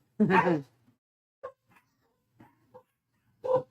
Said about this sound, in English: Wow, these dogs.